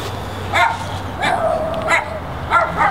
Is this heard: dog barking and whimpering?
yes